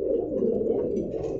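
Several caged fancy pigeons at a Dhaka seller's stall coo steadily, overlapping low throaty rolls close by and moderately loud, with no voices.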